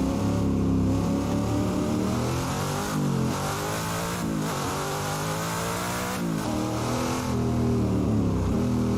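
Simulated car engine in Assetto Corsa, an old-school Ford Mustang, revs loudly and continuously with rising and falling pitch as it accelerates and shifts gears.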